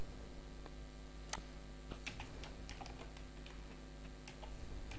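Faint, irregular clicks of keys on a computer keyboard while an HTML tag is typed, scattered light taps over a low steady background hum.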